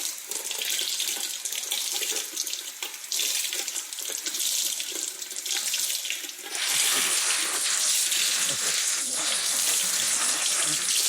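Tap water runs steadily into a sink while a makeup sponge is rinsed, a continuous close hiss and splash that grows brighter and heavier partway through, with no talking over it.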